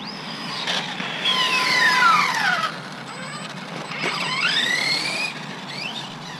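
An RC truck on Scorpion belted tires runs at full throttle, its high-pitched motor whine rising and falling through rapid speed sweeps, with tire squeal over a hissing background.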